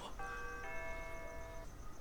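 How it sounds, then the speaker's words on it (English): A doorbell chimes twice in quick succession, two bright tonal rings over a steady room hiss. "The doorbell."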